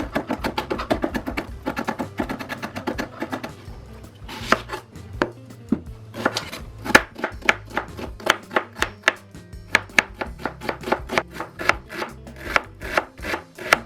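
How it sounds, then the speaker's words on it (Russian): A knife chops garlic and onion finely on a cutting board with quick, crisp, rhythmic strokes, first in a rapid run and then in slower, evenly spaced taps, loud and close with no talk. "И для этого мне понадобится мелко порежу чеснок и лук."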